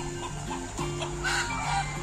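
Chickens at a poultry farm cluck and call steadily in overlapping voices, fairly faint and continuous, with a faint crow-like call in the mix.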